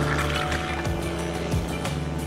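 A seaplane with its engine mounted high at the rear, away from the water, runs steadily while afloat, a continuous loud droning hum with water-vehicle character and no speech.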